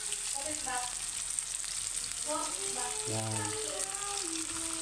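Tomatoes and sweet-spicy ketchup sauté in a pan with a steady, even sizzle throughout, joined by a few scattered scraping and stirring sounds.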